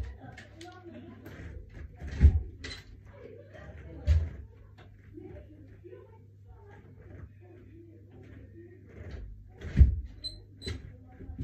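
A door is shut at home, heard as a few dull thumps and bangs spread over several seconds amid faint handling noise and some talking.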